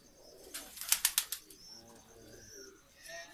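Colourfully dyed pet pigeons coo softly at close range, with a brief rapid flurry of wing flaps in the middle and low rounded cooing notes after it.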